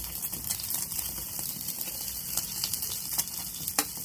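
Chopped onion frying in hot oil, a steady dense sizzle with light stirring scrapes, close and continuous without speech.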